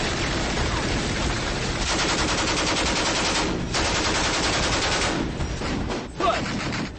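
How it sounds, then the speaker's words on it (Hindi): Continuous machine gun fire from a war film battle scene, dense rapid bursts filling the whole stretch loudly with little letup, near and unbroken, no talk. "यहाँ पर कंटिन्यू मशीन गन की फायरिंग हो रही है।"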